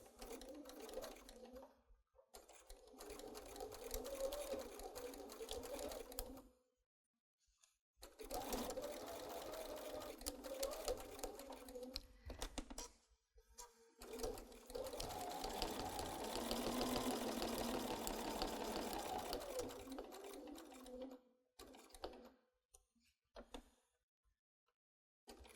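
Sewing machine stitching fabric with a starter strip, running in several bursts of steady mechanical whirring separated by short pauses, close by, including short back-and-forth runs of backstitching.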